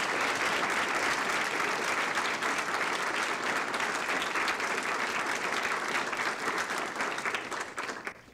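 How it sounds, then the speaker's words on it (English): Steady round of applause from an audience at a civic service awards ceremony, dense continuous clapping at moderate level that tapers off at the end. "let's give a big round of applause for all of our recipients tonight."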